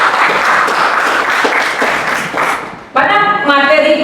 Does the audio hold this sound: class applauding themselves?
yes